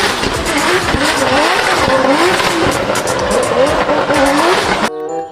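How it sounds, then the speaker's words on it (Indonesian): Toy race car, from a set of toy vehicles, gives a loud, steady, continuous electronic engine-revving and skidding sound with rising and falling pitch sweeps, running nearly five seconds before cutting off abruptly. "Wadidaw, mobil balap."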